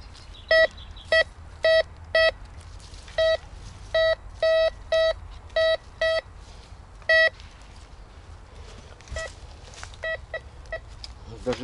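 A metal detector sounds a series of sharp, identical electronic beeps, some in quick pairs and runs, others spaced out, over a faint low background hum.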